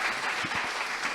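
Applause from an audience closing a PHP community summit talk in Brazil, a dense steady wash of clapping throughout.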